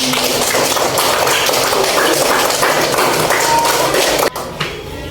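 Students in a classroom give a loud, dense round of clapping that continues steadily, then stops abruptly with a sharp thump, leaving brief room noise.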